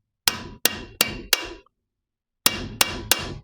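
Seven sharp hammer taps on the yoke of a homemade driveshaft for a 1961 Rambler: four quick close blows, a pause of about a second, then three more, each ringing briefly and loud with no talk.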